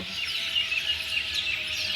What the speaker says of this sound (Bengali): কি দারুণ দেখো পাখিদের আওয়াজ